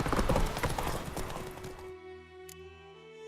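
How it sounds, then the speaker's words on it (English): A horse in The Witcher 3 video game clatters along with quick hoofbeats that fade out after a couple of seconds, leaving a quiet tonal background, with no talking. "Whoa there, Roach"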